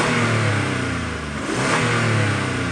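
A Mitsubishi Montero SUV engine with a slight exhaust leak runs loudly and steadily, with a rough idle rising into revs, close by and continuous throughout.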